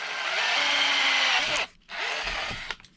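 A power drill boring holes in a homemade wing mount for an Arrma Kraton 8S EXB RC car: a loud, steady whirring run of about 1.6 seconds, a brief pause, then a second burst that ends with a couple of sharp knocks.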